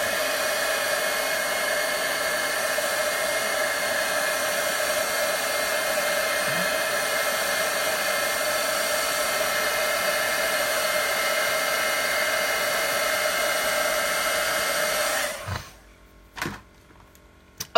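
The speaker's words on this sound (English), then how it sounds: "I'm going to heat set this so that it will dry." A heat tool blasts a loud, steady whirring roar for about fifteen seconds while drying watercolor ink on a card, then cuts off abruptly, leaving a few soft clicks and handling sounds.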